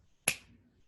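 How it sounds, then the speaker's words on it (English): A hypnotist snaps his fingers once, a single sharp close crack that cuts through the quiet and fades quickly into near silence. "as I count from 1 to 3 and snap my fingers"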